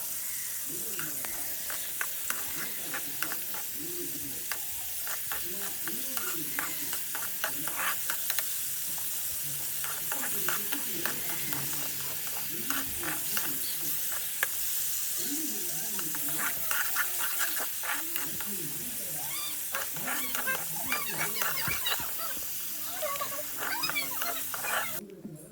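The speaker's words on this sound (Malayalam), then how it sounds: "ചൂടായി വന്ന വെളിച്ചെണ്ണയിലേക്ക് ചെറിയ ചെറിയ കഷ്ണങ്ങളാക്കി മുറിച്ച് വെച്ച ഉണക്ക് തെരണ്ടി ഈ വെളിച്ചെണ്ണയിലേക്ക് ഇട്ട് കൊടുക്കുക." Small cut pieces of dried stingray fry in hot coconut oil, giving a continuous hissing sizzle with bubbling crackle and occasional stirring, close by, running through without pause.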